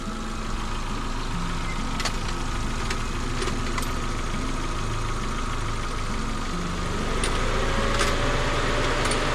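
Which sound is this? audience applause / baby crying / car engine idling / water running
car engine idling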